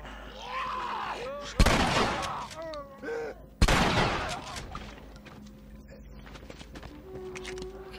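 Two sharp, loud gunshots about two seconds apart in the video game The Last of Us, each a sudden blast with a short decaying tail, amid background game sounds and voices.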